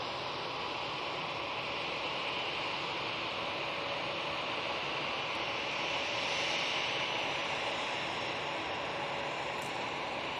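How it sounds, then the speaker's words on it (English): An EasyJet Airbus A320-200 departs Manchester Airport bound for Paris Charles de Gaulle, its jet engines giving a steady, dense roar throughout, loudest near the middle, with no talking. "we've got this EasyJet off to Paris, Charles de Gaulle"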